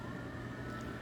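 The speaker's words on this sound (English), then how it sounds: "Sirens." Emergency vehicle sirens wail faintly in the distance outdoors, a thin steady tone over low background rumble for a brief moment.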